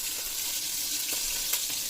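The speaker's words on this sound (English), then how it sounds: "make sure you sear it on high heat first" A beef chuck roast sears on high heat, giving a steady, close, bright sizzling hiss with faint pops throughout.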